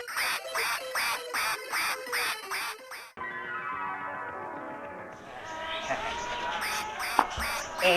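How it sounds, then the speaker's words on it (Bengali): A duck quacks in a fast, evenly spaced string of loud, close calls, followed by a stretch of drawn-out, wavering calls and a final short burst of quacks. "এই তো আমার হাঁস"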